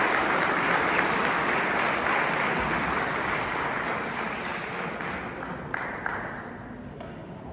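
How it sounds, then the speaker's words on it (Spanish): A church congregation at a Sunday service gives sustained applause, a broad steady patter of many hands heard from some distance, slowly fading toward the end. "te voy a pedir que le demos un fuerte aplauso a Dios"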